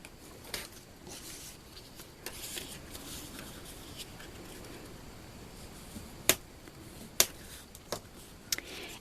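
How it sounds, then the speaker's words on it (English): Paper being folded by hand for a small scrapbook mini album, quiet rustling and creasing punctuated by a few sharp crisp snaps toward the end, close and soft with no talking. "And just fold that up."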